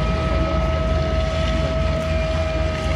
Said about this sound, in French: le Nord Atlas est propulsé par deux moteurs Bristol Hercule 739 de 2400 chevaux chacun